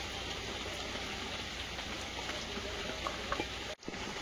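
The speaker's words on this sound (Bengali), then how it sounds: "বিশাল ঝড়ে বৃষ্টি এসেছে।" Rain pours during a big storm as a faint, even wash of hiss with no distinct drops standing out, briefly cut by a short dropout near the end.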